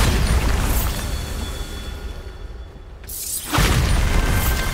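A Bombarda spell blast in Hogwarts Legacy, a loud booming explosion with a broad rumbling burst that swells after a brief lull and lingers, with no talking.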